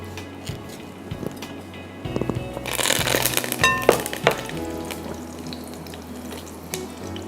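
Curry leaves, cloves and whole red chilies hitting hot olive oil, a sudden burst of crackling and spitting that settles into a steady sizzle, with spoon clinks against the pan.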